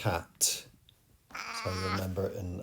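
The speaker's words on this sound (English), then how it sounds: "that's my cat" A pet cat meows in a room during a GCSE chemistry lesson, a short loud call heard between stretches of someone talking nearby.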